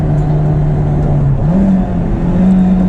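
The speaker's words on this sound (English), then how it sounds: "Very easy to heel toe downshift." Honda S2000 engine drones loudly from inside the car with the top up, its pitch dipping and then rising in a quick blip during a heel-toe downshift.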